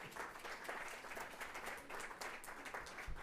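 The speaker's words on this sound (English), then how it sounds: "I'm happy to give a quick round of applause to everyone there" Audience applause at a conference, a steady dense wash of many hands clapping at moderate distance with no break, fairly quiet overall.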